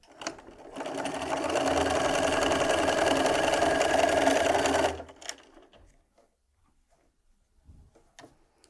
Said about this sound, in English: And then we're going to sew all the way down.